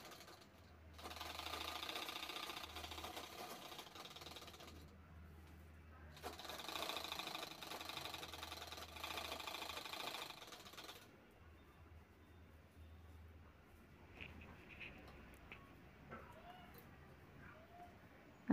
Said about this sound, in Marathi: अशा पद्धतीने साईडनं शिवून घ्यायचं आहे.